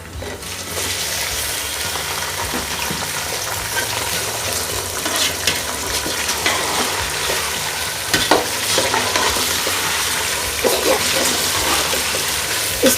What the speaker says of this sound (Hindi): इसको हमने अच्छी तरह से फ्राई करना है। इतना फ्राई करना है कि चिकन का पानी खुश्क हो जाए।